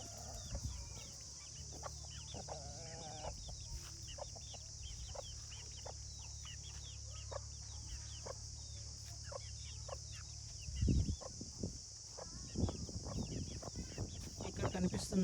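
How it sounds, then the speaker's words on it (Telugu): Free-range country chickens on a farm cluck in scattered, short calls over a steady low rumble, with a louder burst of activity near the end. "మన ఫామ్లో ఉన్న కోళ్ళన్నీ ఇలా ఫ్రీ రేంజ్లో తిరుగుతూ ఓపెన్ ఏరియాలో పెరిగినవి"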